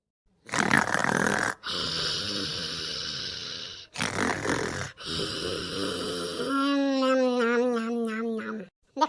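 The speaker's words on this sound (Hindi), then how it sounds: "अब ये देखत कैसन खर्राटा मारत है।" Loud, drawn-out cartoon snoring from a sleeping character, several long rasping inhales broken by short pauses, ending in a wheezy, whistling exhale; no talk over it.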